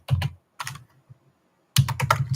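Quick clicking keystrokes on a computer keyboard come in three short bursts separated by pauses, close and crisp in a quiet room.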